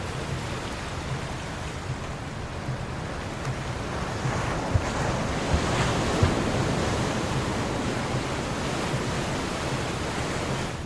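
High sea waves around a yacht off Marsa Matruh, a steady broadband roar of surf and wind buffeting the microphone, loud and unbroken with a few faint knocks, no voices.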